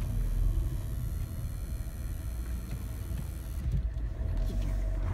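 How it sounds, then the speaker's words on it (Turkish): Continuous low rumble of a car moving through city traffic, steady and fairly loud with a broad engine and road roar, no voices. "Araba gelsin yol ver."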